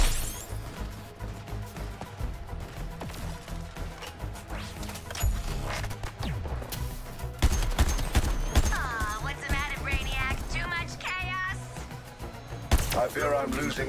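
Gunfire in a Suicide Squad video game boss fight against Brainiac, bursts of shots scattered among crashes, impacts and heavy game effects, with voices talking over much of the action.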